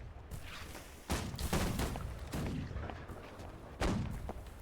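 Tank cannon fire in a video game, booming shots with long rumbling tails against constant battle noise, two heavy blasts standing out, heard fairly faintly.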